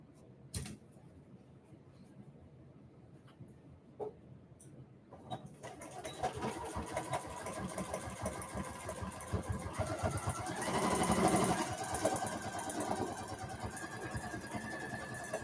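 A sewing machine stitches fabric for a maker caddy. After a few quiet seconds with small clicks, the motor starts and runs as a steady, close whirring buzz for about ten seconds, swelling briefly louder near the end.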